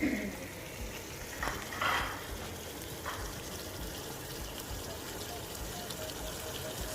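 Nigerian egusi soup is stirred in a pot, giving a soft, steady wet churning and bubbling with a few louder scrapes early on, at a moderate level throughout.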